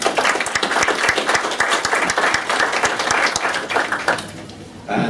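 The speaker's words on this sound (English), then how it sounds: "Let's give him a round of applause." Loud, full applause from an evening audience welcoming a speaker, dense continuous clapping that fades briefly near the end.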